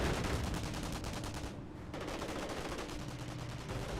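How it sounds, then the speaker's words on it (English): Rapid bursts of gunfire from enemy troops in the World War II strategy game Company of Heroes, rattling machine-gun and rifle shots in close succession with a brief lull partway through. "Receiving enemy fire."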